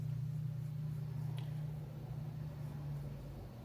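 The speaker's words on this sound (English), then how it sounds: "Sorry for all the traffic noise in the background." Steady low rumble of traffic on a nearby state route, a continuous drone holding throughout at moderate level with no talking.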